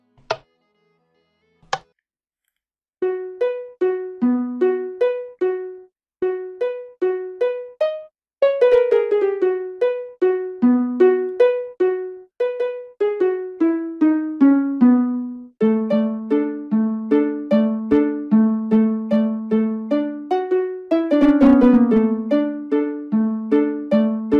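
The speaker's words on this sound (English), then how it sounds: "you should be able to hear your whole entire note block song" A plucky, chime-like Minecraft note block melody of short tuned blips plays in quick patterns, with chords and shifting runs, bright and clear with no voices.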